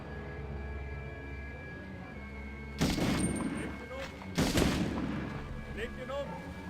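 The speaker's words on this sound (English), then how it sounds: "Where are they shooting me from?" In the Medal of Honor video game, two loud bursts of gunfire crack out over a low background hum, each blast followed by a decaying boom, with faint talk underneath.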